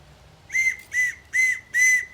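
A whistle from a Cub Scout essentials kit gives four short, shrill blasts in an even rhythm, each lasting about a quarter second, sounding close and alone.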